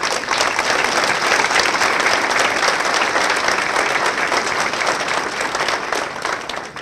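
Loud, sustained applause for a politician at a PAN legislator's report event in San Luis, a thick continuous patter of many hands filling the room from start to finish.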